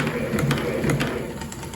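An Atlas 7B metal shaper runs with its heavy table bouncing, giving a rhythmic mechanical thumping and clatter that repeats about twice a second, close and moderately loud.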